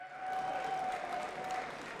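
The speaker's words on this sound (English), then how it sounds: "don't stop applauding yet" A crowd applauds loudly and steadily at a Dragon Ball FighterZ World Tour Finals last chance qualifier tournament, with dense sustained clapping and a faint tone running through it.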